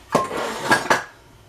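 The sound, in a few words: ingredient containers and dishes being moved around on counter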